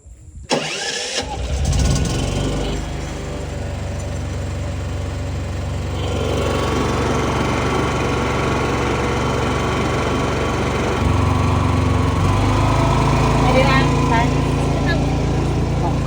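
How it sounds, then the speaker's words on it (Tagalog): A PK8000i generator is started by remote control from about 15 meters away. It catches after a short cranking burst and settles into a steady, loud engine drone that rises slightly in pitch later, with voices talking over it. "tinetest natin yung remote control in 15 meters distance away from the generator"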